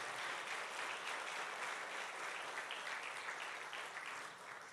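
A church congregation claps to glorify the Lord, a faint but steady wash of many hands that fades slightly toward the end.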